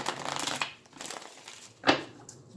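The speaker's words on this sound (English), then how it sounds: "One more shuffle." Tarot cards are shuffled by hand at close range, soft papery riffles and rustles with a sharper flick near the end and no speech.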